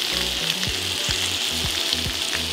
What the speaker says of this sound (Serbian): I nastavit ćemo da pržimo.